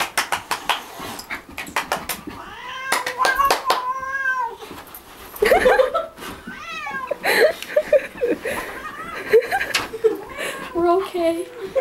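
A cat fighting and yowling, with repeated loud meows and caterwauls close by, mixed with scuffling, laughter and people talking throughout.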